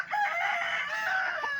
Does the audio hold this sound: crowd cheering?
no